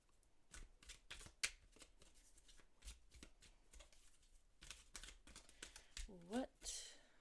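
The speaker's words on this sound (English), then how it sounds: "All right, let's shuffle." Tarot cards are shuffled in repeated rapid riffles and flicks, close up, with a brief voice near the end.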